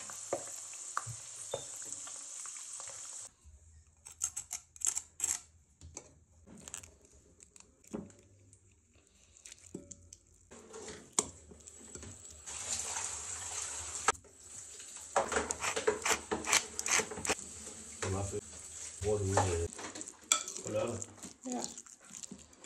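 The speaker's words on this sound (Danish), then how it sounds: "Men de er stenhårde nu, så de skal bare ned i varm olie." Hard pork rinds for chicharrón drop into hot oil and sizzle steadily, with clattering utensils and pans around them and some speech mixed in.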